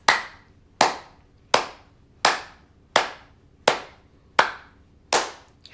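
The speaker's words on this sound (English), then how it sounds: "And everybody clap your hands." A teacher leads a children's clapping activity during a lesson. Eight crisp, close hand claps ring out one at a time at an even, unhurried pace, each sharp hit followed by a short fade, with quiet between them.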